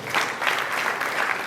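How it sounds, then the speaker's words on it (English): Dense, loud applause from an audience at a journalism award ceremony, a continuous close wash of clapping with no voices over it. "Please let's give a round of applause."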